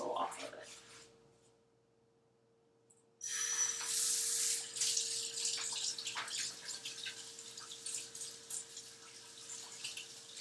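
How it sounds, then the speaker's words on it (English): A kitchen faucet runs as hands are washed to rinse off oil after handling a halved spaghetti squash, a steady hiss of water starting abruptly after a quiet pause and continuing with splashes, alongside a faint background hum. "now you can wash your hands so you can get all that oil off of it"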